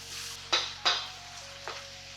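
A vegan spicy pad krapow stir fry with ginger is tossed in a hot pan, giving a low sizzle punctuated by three sharp bursts as the food is flipped.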